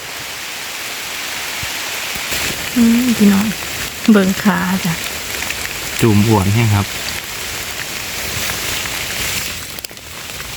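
Steady rain hisses loudly and continuously over a rural outdoor scene during mushroom foraging, while someone speaks in short bursts over it.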